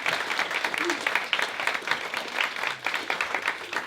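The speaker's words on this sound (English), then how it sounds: "Another round of applause, Katy, because that was absolutely incredible story." An audience applauds Katy after her inspirational speech about reversing lifelong juvenile idiopathic arthritis, a dense, steady wash of many hands clapping at an even level for the whole stretch, with faint voices mixed underneath.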